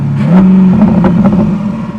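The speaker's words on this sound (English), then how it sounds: "The C8, the Borla exhaust, big step forward." Chevrolet Corvette C8 fitted with a Borla exhaust revs loudly, a rising engine note that holds steady before settling into a rumbling idle with a few sharp blips, close and alone.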